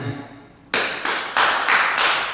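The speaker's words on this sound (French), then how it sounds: "Et là, je peux m'applaudir bien fort" One person claps hands five times at the end of a gentle gym exercise session, sharp, evenly spaced claps, close and clear after a brief quiet moment.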